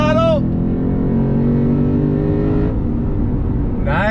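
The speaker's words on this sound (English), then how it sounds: "Rolling on throttle," Deep engine drone from a 2021 Lexus RC F Fuji Speedway Edition rolling on throttle, a sustained loud rumble with rising pitch near the end, under brief talk.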